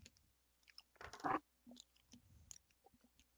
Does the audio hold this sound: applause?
no